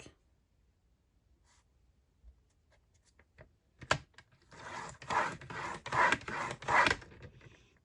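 Paper being folded and creased by hand for a mini album: a few soft taps and rubs, then several seconds of close, dry scraping strokes as a fold is pressed flat.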